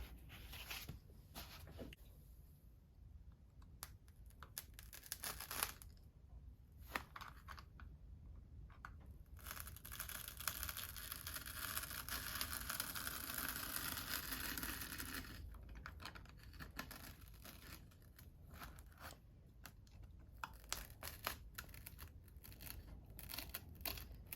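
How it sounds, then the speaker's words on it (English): Blade cutting through Kaizen foam, a close, faint run of scratchy, crackling strokes with a longer continuous rasp in the middle, and no voices. "just cut all the way through to the other side on our Kaizen foam here"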